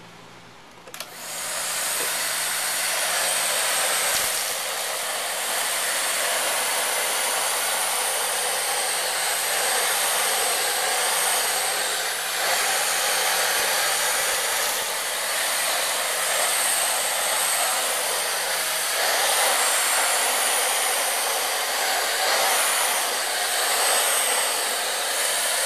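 A Miele S1 Quickstep vacuum cleaner switches on and runs continuously over carpet with a loud, steady, close airy roar that holds for the whole stretch.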